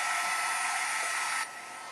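A hair dryer blows steady, close-up air over Inktense ink on a handmade holiday tag, a broad hiss that runs unbroken and drops to a quieter setting for the final half second.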